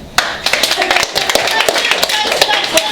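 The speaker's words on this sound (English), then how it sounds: "Guys, clap if you think sex is a sin" Sparse audience clapping at a stand-up comedy show, individual claps scattered and uneven rather than a full ovation, fairly close and crisp with no talking over it.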